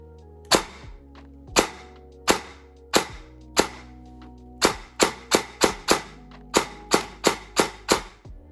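Sharp, snappy semi-auto shots from an electric airsoft M4 rifle, fired one at a time, first slowly spaced, then in quicker bursts, close and loud with no talking.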